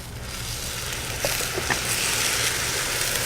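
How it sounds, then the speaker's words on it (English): Steady, loud sizzling of food frying in a hot pan, continuous crackle with a few small pops, no talking. "There it is. There's that sizzle. That's the noise you want to hear."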